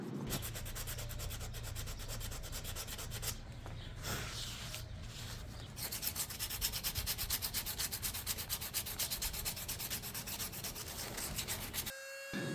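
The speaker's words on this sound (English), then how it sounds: "I manually sanded the live edges using the same grit" Hand sanding along the live edges of a walnut slab by hand, a steady, close, continuous abrasive rubbing that runs the whole time, with brief pauses and strokes shifting in rhythm partway through.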